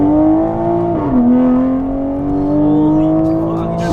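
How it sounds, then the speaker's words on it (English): A Toyota Supra's engine holds a loud, steady drone from inside the car under hard acceleration, with a brief dip in pitch around a paddle-shift gear change before it climbs again. "Do paddle shift first so you can really get the feel, hear the engine."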